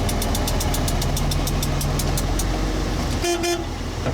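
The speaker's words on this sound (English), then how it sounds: "You want to drive that forklift out of there?" A forklift engine idles and rumbles nearby as it is driven out during the unloading of a large baler, with rapid repetitive beeping and a brief horn-like toot near the end.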